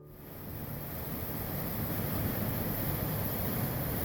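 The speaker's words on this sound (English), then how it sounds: "Hedge Creek Falls on the north end of Dunsmuir." Hedge Creek Falls on the north end of Dunsmuir sends up a steady, wide hiss of falling water that swells in over the first half second and then holds as a constant roar.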